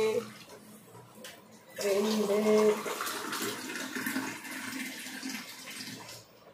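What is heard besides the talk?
pouring glasses of water into a pot for rava kichadi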